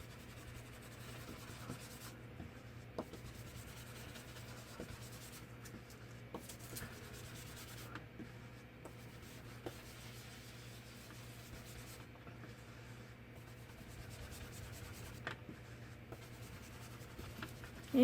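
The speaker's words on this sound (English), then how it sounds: "so that I can color in this paper, make it a little grungier" A crayon or pencil colors in paper taped down on a craft board, giving a quiet, continuous scratchy rubbing in repeated strokes with brief pauses between passes.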